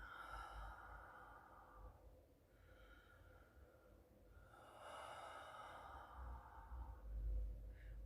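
A person draws long, deep breaths during a breathing exercise, with slow, audible open-mouth exhales of rushing air, close and fairly quiet, repeating in an unhurried rhythm with no talking.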